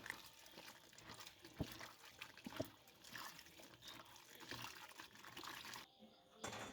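Tap water runs steadily in a home kitchen while food is washed before cooking, a continuous close trickle and splash with faint clinks, pausing briefly near the end.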